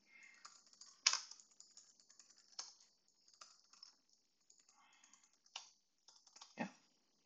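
Typing a password on a computer keyboard: soft, irregular key clicks tapped out in short bursts, quiet and close, with a few sharper presses standing out.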